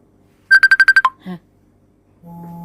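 A telephone rings with a burst of seven quick, bright electronic beeps, then a single lower tone. A short pause follows, then a steady low electronic hum.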